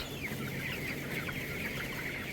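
Chickens cluck and chatter inside a poultry house, many birds at once in a steady, overlapping din heard from nearby.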